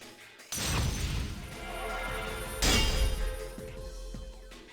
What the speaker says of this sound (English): clashed with my own persona in a sound like glass smashing into glass